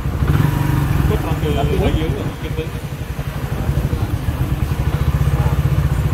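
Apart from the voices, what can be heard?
Suzuki FX125 motorcycle engine revving, slow to drop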